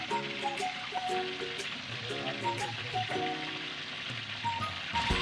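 Chopped garlic sizzles steadily in hot oil, a close, continuous frying crackle with occasional stirring clinks and no voices.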